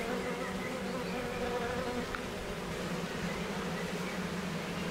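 Honeybees buzzing around a hive while a new queen is introduced to a colony, a dense continuous drone of many insects close by, steady and fairly loud throughout with no talking.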